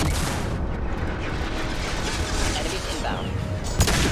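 Continuous dense gunfire and booming in a firefight in the video game Mass Effect 2, loud and sustained throughout with a sharp burst near the end, under faint talk.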